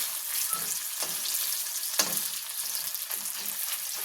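Pieces of kakrol (spiny gourd) fry in oil in a pan after being turned over, producing a constant close sizzle with occasional sharper spits and crackles and no voices.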